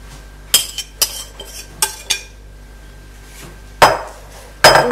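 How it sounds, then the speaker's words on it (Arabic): A spoon or utensil spreads a crushed-biscuit cheesecake base into a cake mould, giving sparse clinks and scrapes against the tin, with a few louder knocks near the end and quiet gaps between. "غادي نصبو فيه هاد الخليط وغادي نحاول نخلط"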